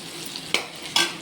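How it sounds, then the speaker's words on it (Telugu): Dried fish cooking in hot oil for a fish curry, a steady close sizzle broken by two sharp spatter or stirring bursts, no talk. "మగ్గాలి ఆయిల్లో ఉడకాలి ఇది కూడా బాగా ఫ్రై కదా"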